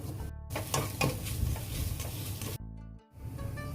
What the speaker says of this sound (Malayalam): അതിലേക്ക് നമ്മൾ അരിഞ്ഞ് വെച്ച തക്കാളി അതിലേക്ക് മിക്സ് ചെയ്യാം.